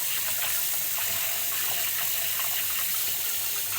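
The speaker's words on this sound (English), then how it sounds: "All right, rinse off, wash hands." Tap water runs steadily at a kitchen sink as hands are rinsed during cookie baking, a constant close hiss with no talking.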